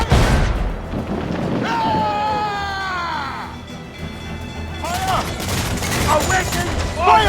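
Pirate ship cannons fire in a broadside in Assassin's Creed Freedom Cry, with heavy booms and rumbling blasts mixed with loud shouting voices and continuous battle din.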